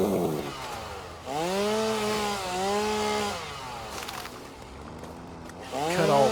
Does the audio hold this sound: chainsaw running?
yes